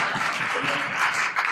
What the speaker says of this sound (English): Hold the applause, please